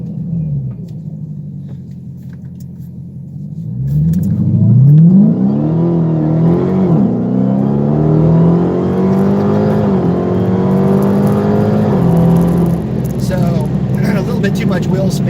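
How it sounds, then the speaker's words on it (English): A Mopar car with 3.09 gears launches hard from a dig with some wheel spin, its engine idling low before roaring up through rising revs, the loud, close exhaust climbing and holding a strained, throaty pitch before easing off. "give you guys an idea as far as how the car gets out from a dig"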